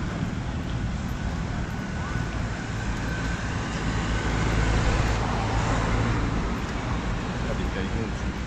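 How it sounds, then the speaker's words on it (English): A TUI bus draws near along a road in Palmanova, Mallorca, during a busy, hot summer day, its engine rumble swelling slightly under constant traffic and wind noise. "There's a TUI bus coming up."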